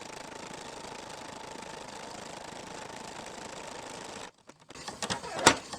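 A home embroidery machine stitches a butterfly earrings design through fabric with doubled stabilizer, giving a steady, fast mechanical whir with rhythmic needle knocking for about four seconds, then stopping into quieter handling clicks and bumps.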